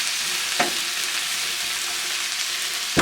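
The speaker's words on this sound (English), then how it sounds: "We're going to let these cook in this hot oil over the medium-high heat" Onions fry in hot oil over medium-high heat, a steady close sizzle with two brief stirring scrapes, no talking.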